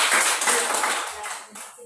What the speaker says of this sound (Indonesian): Ibu persilakan dan berikan aplaus untuk